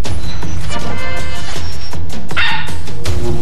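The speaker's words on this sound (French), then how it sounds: "Il aboyait comme un fou après le téléviseur." A dog barks frantically at a television, a rapid run of loud, close barks and yips mixed with whimpering and a crash-like clatter.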